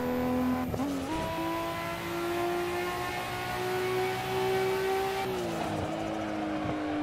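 A Nissan Skyline R34 racing engine in Assetto Corsa drones at high revs with a strong steady tone, pitch dipping briefly with gear shifts before holding again, loud and alone.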